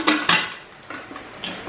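A pot of peas is set down on the stove to boil, two sharp metallic clanks up front followed by a few softer knocks and scrapes of metal, close and quiet otherwise.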